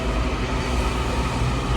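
Washington Metro 7000-series train on the last Orange Line run of the night, a steady rumbling hum and rolling noise heard alone, with no talk.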